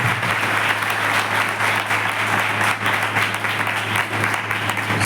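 Audience clapping at an Odia church youth gathering, a sustained dense wash of many hands applauding together, steady and fairly loud for several seconds.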